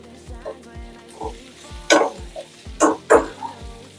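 Chopped green chillies frying in a pan for dahi mirchi, with a low sizzle, a few louder crackling bursts and spoon scrapes near the middle and end.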